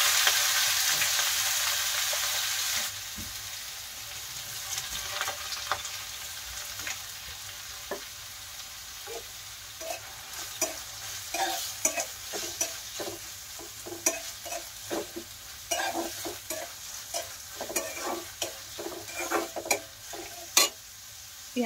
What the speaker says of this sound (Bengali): তেল গরমের মধ্যে একটু জিরে ফোড়ন দিয়েছি। জিরে ফোড়ন দেওয়ার পর ওর মধ্যে পেঁয়াজ দিয়ে দিলাম।